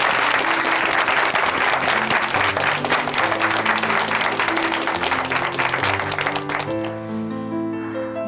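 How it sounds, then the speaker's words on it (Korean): Sustained applause from an audience, dense and steady throughout, with music rising underneath toward the end. "응원의 박수 보내드리겠습니다."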